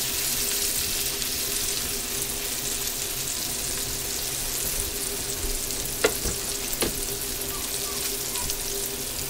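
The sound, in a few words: food frying crispy in a pan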